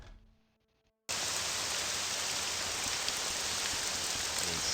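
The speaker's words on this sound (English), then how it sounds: "It is still raining" After a second of near quiet, dense steady rain from the video game Morrowind switches on abruptly and holds as a loud, even hiss with no voices.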